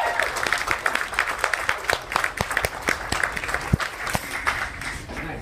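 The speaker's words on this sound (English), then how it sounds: "Definitely deserves a giant round of applause." A round of applause rises from the audience at a glassblowing demonstration, steady and moderately loud, with a few sharper claps standing out.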